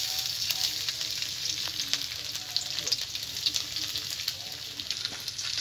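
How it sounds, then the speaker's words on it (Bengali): Chopped garlic frying in oil in a kadai makes a steady, close hiss with small crackles and light stirring clicks throughout, no talking over it. "এবার কড়াইতে দিয়ে দেব আমি রসুন কুচি।"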